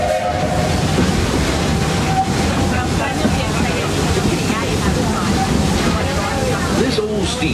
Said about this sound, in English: This old steam train needs water to keep going, just like you and me.